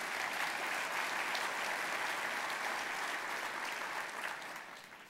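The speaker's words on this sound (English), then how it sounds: "Give yourself another round of applause." Sustained applause from a city-hall audience during a mayor's State of the City speech, dense and steady throughout before tapering slightly near the end.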